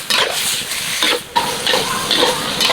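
Water hitting a very hot wok of large prawns and fresh chili sets off a loud close hissing sizzle in sustained bursts with brief dips between them.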